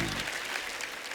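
Studio audience applause at a comedy talk show, a dense continuous patter of clapping filling the whole moment at moderate level with no voices over it.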